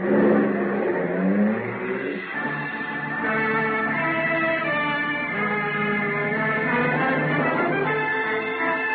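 A car pulls away with a rising engine rev in an old-time radio crime drama, heard in narrow-band sound as a steady engine drone under a swelling musical score.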